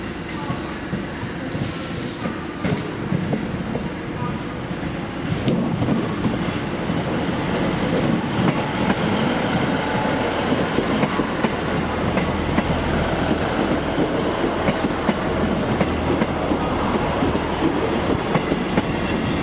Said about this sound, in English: another 158 descends the 1 in 37 grade with a train for Barnstaple